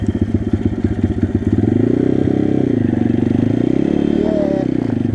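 Close and loud, a pit bike engine drones steadily while being ridden over snow and ice, with a rough rattling idle at first that settles into a sustained run with slight rises in pitch.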